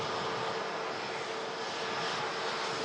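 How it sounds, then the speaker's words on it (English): An Airbus A380 at Manchester Airport runs its jet engines up for the takeoff roll, producing a steady, broad, loud roar with a faint tonal whine, unbroken for the whole moment and with no talking. "just waiting patiently now for the 1034 and returning Airbus A380 to begin the takeoff roll."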